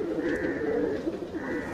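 Rampuri pigeons coo close by, soft rolling calls repeating over a low, steady background.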